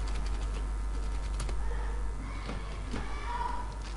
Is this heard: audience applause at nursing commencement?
no